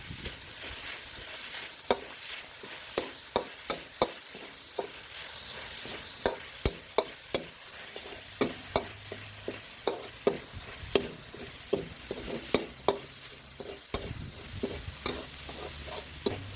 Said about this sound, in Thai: นำพริกแกงที่เราตำได้มาคั่วในกระทะให้ทรงกลิ่นหอมเลยนะครับ